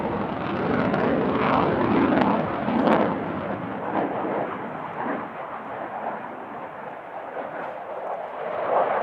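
Saab Gripen fighter jet flying a loop at the Radom Airshow 2023, a loud continuous roaring engine rumble that swells and eases slightly as the aircraft climbs and arcs around.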